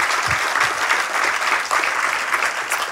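An audience at a film talk claps for the people behind Moonlight, a close, lively round of applause with uneven swells that holds steady throughout.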